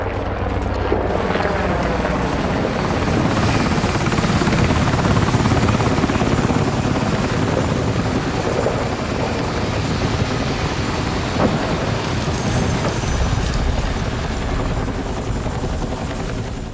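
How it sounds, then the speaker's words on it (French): A helicopter arrives in the video game Ghost Strike, its loud, continuous rotor thrum and whine filling the scene without pause. "notre hélico arrive."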